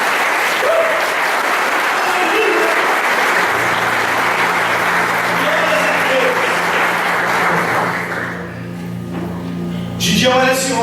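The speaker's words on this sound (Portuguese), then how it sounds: "E aplauda Jesus Cristo." A church congregation claps loudly and steadily for several seconds; the applause then fades out under sustained organ-like tones and music.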